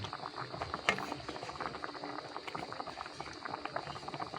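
Coconut milk simmers with tilapia in a pan for ginataang tilapia, giving a steady close bubbling and crackling that runs continuously with small pops and one sharper pop near the start, with no talk.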